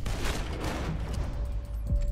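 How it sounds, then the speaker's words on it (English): Gunfire in Red Dead Redemption 2 during a boat mission, loud dense booming shots and rumble that fill the short moment, with no talk over it. "Shoot him, Arthur!"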